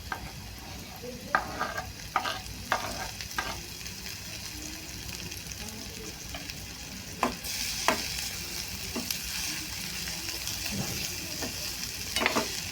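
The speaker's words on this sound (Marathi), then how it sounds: "आता हे चांगलं परतून घ्यायचं आहे आपल्याला" Tomato sautéing in a pan for egg bhurji: a steady soft sizzle with repeated scraping stirs of a spatula, fairly close and alone without talk.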